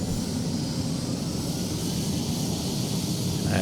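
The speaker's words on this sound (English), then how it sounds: "Ignore the noise of the helicopter starting up." A helicopter engine starts up in the Arma 3 video game, a steady loud turbine whine and roar that stays even throughout, with no voices.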